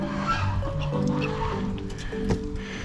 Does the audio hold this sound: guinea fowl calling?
yes